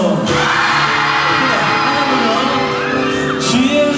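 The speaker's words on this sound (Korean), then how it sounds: "크게 함성." A crowd of high school students at a worship service shouts loudly together, a sustained roaring cheer with rising whoops and yells that fills the room.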